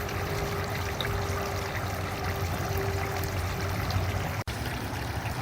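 Water trickling and splashing steadily down the spouts of a tiered garden fountain, a continuous close stream with a faint low hum underneath and a brief dropout near the end.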